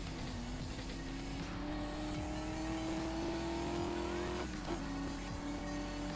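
A car engine drives steadily in Need for Speed Most Wanted, holding a loud sustained drone that slowly climbs in pitch as it accelerates, with a brief dip near the end, alone without talk.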